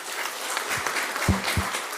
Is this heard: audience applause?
yes